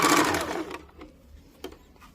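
A sewing machine whirs in a short burst while stitching the lower band of a choli-cut blouse, then stops, leaving a faint tap or two in near silence.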